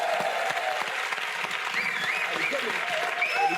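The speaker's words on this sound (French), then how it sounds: "Vous pouvez l'applaudir" A live audience gives sustained, even applause as a volunteer is called up on stage. Voices and faint tonal sounds mix in under the clapping.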